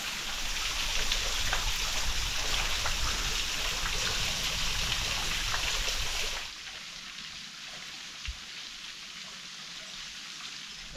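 A waterfall near Pindar Cave in Brisbane Water National Park makes a steady, close rushing hiss of falling water, which drops abruptly to a quieter, distant flow after about six seconds.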